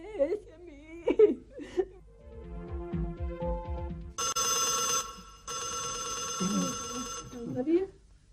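A telephone rings in a comic domestic drama, a bright electronic bell trilling for a few seconds in the middle, between voices whimpering and giggling close by.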